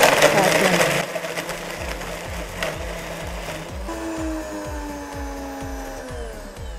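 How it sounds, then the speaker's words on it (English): Kitchen blender whirring as it blends a strawberry yogurt smoothie, a steady motor drone with rhythmic chopping pulses and a pitch that shifts as the mix loosens, running alone at close range. "let's pop this into the blender and start blending."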